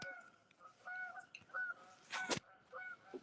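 Several geese honk in short repeated calls, fairly clear and distinct, with a brief louder burst of noise midway and no talking.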